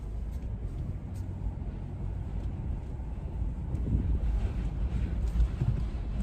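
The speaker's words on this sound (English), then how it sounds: "Goodness, is it windy" Steady strong wind from a tornado-producing storm in Amboy, Minnesota roars and buffets close by, a constant low rumble with occasional gusts, no voices.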